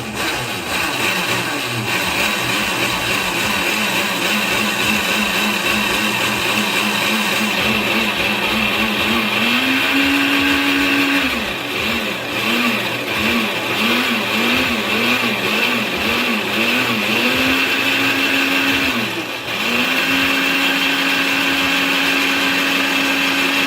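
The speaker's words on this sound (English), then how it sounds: "now we are going to pulse this" Blender pulsing ingredients for a vegan Biscoff lasagne: loud continuous motor whir with repeated pitch dips and surges as pulses start and stop, running steadily throughout.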